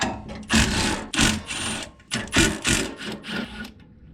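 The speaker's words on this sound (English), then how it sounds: "Now these nuts, they're just a 12mm, so I got a 12mm socket on my impact gun here." Impact gun with a 12mm socket zips off nuts while a grill guard goes onto a Kubota BX tractor, several short close rattling bursts in quick succession with brief pauses between them.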